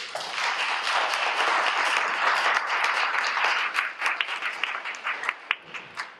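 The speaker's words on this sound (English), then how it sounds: "A round of applause, please." An audience at a panel discussion on land and racism in Washington, DC applauds the panelists, a full burst of clapping that holds steady, then thins into scattered, separate claps near the end.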